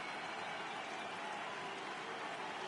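A stadium crowd in a PS4 baseball video game gives off a steady, dense roar of cheering and applause that holds at an even level throughout with no break.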